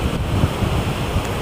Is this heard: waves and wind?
yes